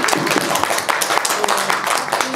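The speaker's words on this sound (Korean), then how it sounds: "네, 박수 드립니다." Audience clapping at a film screening Q&A in a cinema, a short dense burst of applause from a seated crowd that carries steadily throughout.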